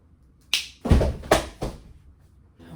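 A single finger snap cracks out sharply and close, followed by a few duller taps and thumps in an otherwise quiet moment.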